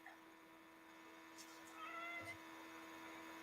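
A cat meows faintly a couple of times in a quiet indoor space in Scotland, with a low background hum and soft voices nearby.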